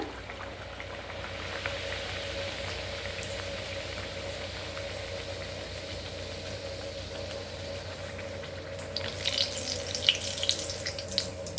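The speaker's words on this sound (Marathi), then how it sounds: "आता सोडूया पुऱ्या पहिली एक तळून बघूया आपण" Puri dough frying in well-heated oil, a steady close sizzling hiss that grows brighter with crackling spits and pops near the end, with no voices.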